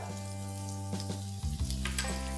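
Chopped green capsicum, cut into inch-sized cubes, sautés in a pan for a restaurant-style chilli fish, giving a steady close sizzle with a few soft stirring scrapes and clinks near the end.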